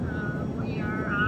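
Small airplane climbing just after takeoff from New Richmond, a steady engine drone heard from inside the cabin, moderate and unbroken, with a faint voice in the background.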